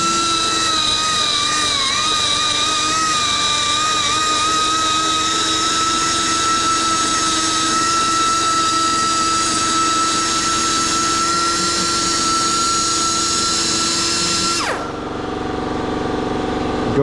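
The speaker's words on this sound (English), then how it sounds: "I'm gonna take the my flap disc and clean this out a bit more." A flap disc on an angle grinder cleaning out metal for a big brake kit fitted to a Z31 300ZX, a loud steady high whine running continuously before spinning down abruptly at the end.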